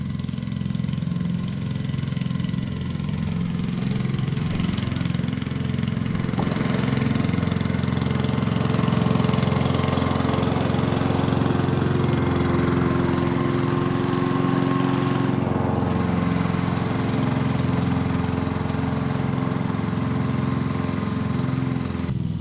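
A lawn mower runs steadily while cutting grass on the season's first mow, a loud, continuous close engine drone with slight shifts in pitch and load and no talking.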